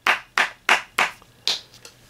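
Hands clap sharply about six times at a brisk, slightly uneven pace, close and alone with no talk.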